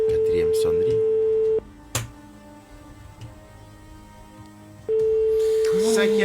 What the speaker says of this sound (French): Quatrième sonnerie.